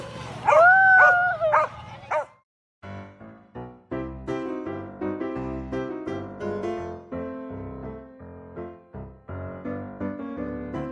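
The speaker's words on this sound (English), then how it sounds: "Моя любимая собака" A dog gives a few high yelping barks and whimpers close up at the start, then a run of rapid, clipped barking continues after a short gap.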